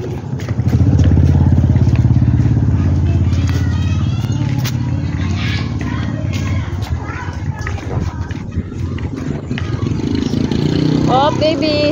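A motorcycle engine drones steadily on a village road as a walker passes, running under a voice talking to a child the whole time, with a few light sounds of traffic around.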